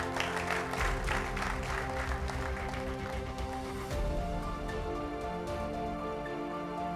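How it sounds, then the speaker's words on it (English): Audience applause at the semi-finals of an Ogun State school quiz competition, steady, full clapping throughout with a tonal background hum beneath it. "A round of applause."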